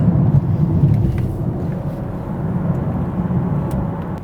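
A 2020 BMW 740i luxury sedan drives along canyon roads, heard as a steady low rumble of engine and road noise from inside the car, continuous and moderately loud with no talk.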